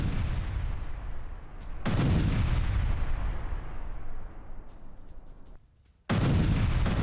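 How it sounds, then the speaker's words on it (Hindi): Powerful blasts as a Hamas command center in Gaza is blown up, a sustained roaring boom that surges loud, fades, drops briefly near silence, then erupts again, heavy and distant-sounding, with no voices. "हमास के कमांड सेंटर को उड़ा दिया गया।"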